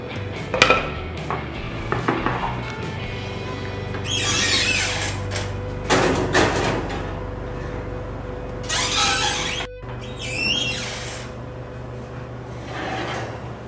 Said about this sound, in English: And we'll throw it in the oven.